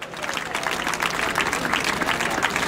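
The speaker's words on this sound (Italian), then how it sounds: "Vorrei già un applauso per lui, Antonio Pani, il re." A crowd at an outdoor town festival in Quartu Sant'Elena, Sardinia, applauds for Antonio Pani with dense, continuous clapping at moderate loudness, steady and unbroken for the whole stretch.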